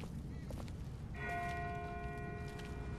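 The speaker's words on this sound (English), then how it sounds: "That's not the same bell as before. This one's further off." A church-type bell tolls faintly in The Walking Dead video game, its ringing tones sustained and far off over a steady background of low ambient noise.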